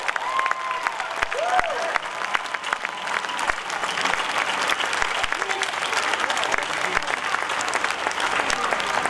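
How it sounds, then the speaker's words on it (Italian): A large theatre audience applauding at a concert in L'Aquila, sustained thick clapping from a big crowd with some cheers and whistles rising through, loud and continuous. "fatemi un applauso"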